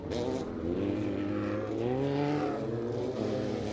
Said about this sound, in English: As our pace truck pulls off the track